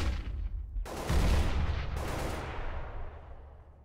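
A grenade detonates in Counter-Strike: Global Offensive on the de_mirage map, giving a loud, booming blast with a long rumbling tail that slowly fades, followed by a second sharp burst, with no talk over it.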